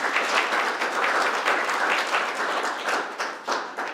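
An audience applauds winners of an essay competition, a dense burst of clapping from many hands that holds steady, then thins out toward the end.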